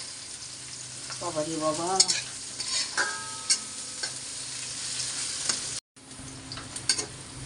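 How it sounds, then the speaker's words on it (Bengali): Cumin seeds and green chilies fry in hot oil with a constant sizzle, punctuated by spatula clinks as they are stirred, while a voice speaks briefly and the sound drops out for an instant. "ওই তেলের ভিতরে এবার একটু জিরা দিয়ে দেব, কাঁচামরিচ দিয়ে দেব, সুন্দর করে একটু ভাজা নেব"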